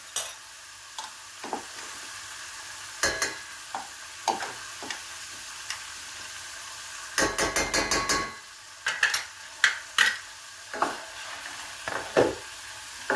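Onions and peppers fry in a pan with tomato paste, a quiet sizzle under repeated clanking scrapes of a spoon stirring against the pan, including a quick rattling burst midway.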